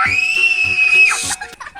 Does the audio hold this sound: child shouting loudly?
yes